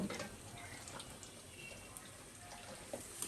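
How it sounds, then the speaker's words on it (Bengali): Water runs and splashes softly in a home kitchen as a cooking pot is washed, a quiet steady trickle with a few small drips and clinks. "দেখেন দুন্দুলটা ধুয়ে নিতেছে"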